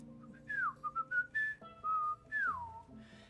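A person whistles a melodic tune alone, with clear sliding and held notes in short phrases, close and fairly loud.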